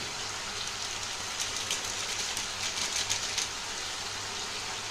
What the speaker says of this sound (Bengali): তো এবার এটাকে আস্তে আস্তে নাড়িয়ে আর ভেজে নেব।